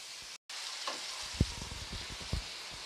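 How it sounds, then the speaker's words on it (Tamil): Dried fish sautéing in oil for karuvattu kuzhambu, a steady frying sizzle with short stirring scrapes and clatters spread throughout, close and moderately loud, and a brief cut to silence near the start. "இந்த பச்சை இது ஸ்மெல் இல்லாமல் எண்ணெயிலே போட்டு கொஞ்சம் வதக்குங்க கருவாடை"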